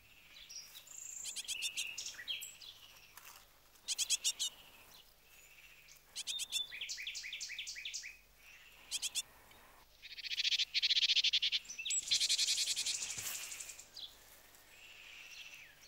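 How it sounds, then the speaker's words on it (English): An injured bird chick calls from the ground at night, with repeated high, thin chirping bursts in short clusters, mixed with insect and frog-like trills around it. "the injured chick is still on the ground and calling to them"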